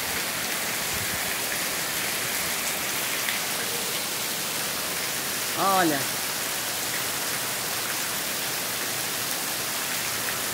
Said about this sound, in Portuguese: Tá só chovendo.